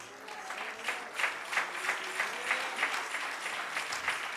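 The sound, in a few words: congregation applause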